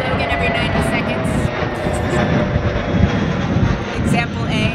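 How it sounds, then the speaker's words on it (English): Airplane taking off from Logan airport, heard as a steady broadband engine roar that holds throughout without fading, with light wind noise and a voice speaking faintly underneath. "There's a plane that takes off from Logan every 90 seconds."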